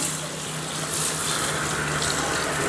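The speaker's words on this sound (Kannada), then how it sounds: "ನೀರು ಹಾಕ್ತಾಯಿದ್ದೀನಿ" Water pours steadily for a few seconds over rice, urad dal and fenugreek seeds set to soak for ragi dosa batter, a close, continuous rushing splash with no voices.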